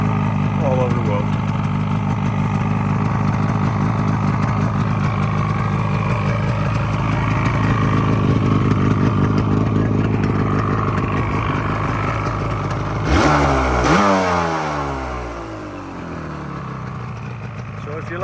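Motorcycle engine runs at a steady, loud, close idle with a throbbing rhythm, then rises in a rev near the end before settling back, with talk underneath.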